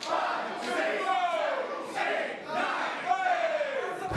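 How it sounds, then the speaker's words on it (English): Wrestling crowd at an All Pro Wrestling Gym Wars event chanting in rhythmic unison, counting along to a series of punches in the corner; loud, massed voices rising in repeated waves across the hall. "You can hear the Gym Wars crowd counting along"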